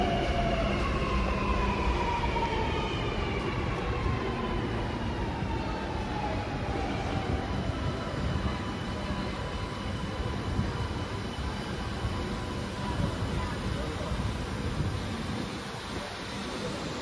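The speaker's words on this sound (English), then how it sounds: "have a Sydney service arriving at Chatswood." A Sydney Metro train pulls into Chatswood station during testing, a steady loud rolling rumble with a gliding electric motor whine that falls in pitch as it slows, heard up close with no talking.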